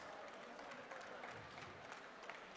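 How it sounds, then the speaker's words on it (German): Applause for the second-place team at a convention award ceremony, a steady, fairly faint wash of clapping from a crowd that holds evenly throughout. "Glückwunsch, großer Applaus."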